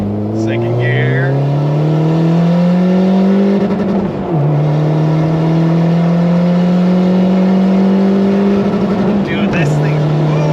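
A turbocharged 2007 Honda Fit with a stock L15 engine accelerates hard in second gear, its engine note climbing loud and close, with a brief shift dip midway and another near the end, while people talk over it.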